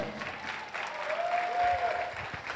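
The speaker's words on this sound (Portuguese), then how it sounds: "Bate palmas para o Senhor." A Portuguese-speaking church congregation claps hands in a brief, moderately loud burst of applause, with a thin tone and faint background noise running through it.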